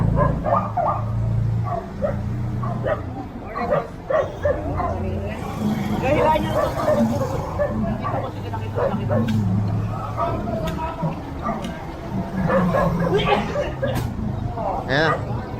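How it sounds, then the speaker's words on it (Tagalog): A dog barks repeatedly in quick bursts outdoors beside a property, with people talking over it and some background babble. "Ay, kayo ng aso to! Aso, kanino to?"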